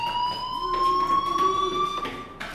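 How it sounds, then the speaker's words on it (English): A school fire alarm sounds in the video game Life is Strange, a loud continuous electronic tone that holds steady and pulses slightly, with no voices over it. "Hey, do you hear that fire alarm?"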